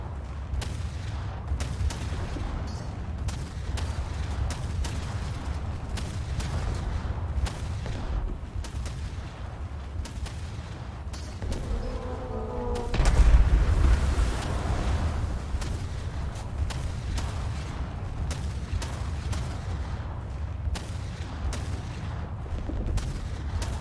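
Naval guns firing in War Thunder, including 15 cm secondary guns on a ship's side: a fast, irregular string of sharp reports over a constant low rumble, with one deeper, heavier boom partway through.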